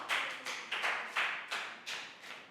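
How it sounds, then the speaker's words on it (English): A Year 3 class claps in a round of applause, about seven quick, fairly quiet bursts of clapping that each fade briefly before the next. "Big round of applause for Pak Bung."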